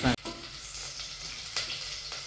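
Cinnamon, cloves, cardamom and black pepper roasting in oil for a coconut-milk fish curry give off a soft, steady sizzle, with a couple of faint clicks from the pan.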